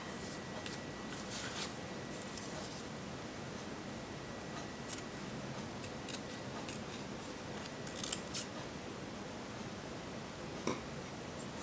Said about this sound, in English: I'll cut these two out.